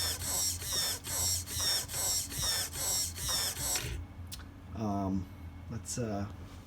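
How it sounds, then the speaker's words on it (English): DS 20kg servo running with a noisier whine than a stock servo, about eight rhythmic buzzing sweeps in quick succession, close, then a voice speaking briefly afterwards. "It's noisier than the stock servo"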